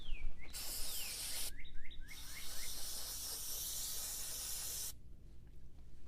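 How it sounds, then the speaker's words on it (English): Brake parts cleaner spraying in loud hissing bursts while working on a BMW M54/M52tu double VANOS unit, one long spray then a pause, another long blast, and faint squeaky chirps between. "Take our brake parts cleaner."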